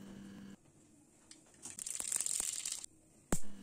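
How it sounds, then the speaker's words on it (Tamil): Mustard seeds splutter in hot cooking oil in a pressure cooker for a Tamil chicken curry, a burst of faint, dense crackling and popping that lasts about a second, followed by a sharp clack. "எண்ணெய் நல்லா சூடானதும் கடுகு தாளிச்சிடலாம்."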